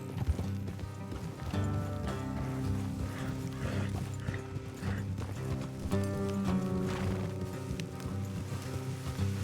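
Horses clip-clop at a steady trot along a path in the video game Red Dead Redemption 2, with occasional neighs over a continuous bed of game music and light rain.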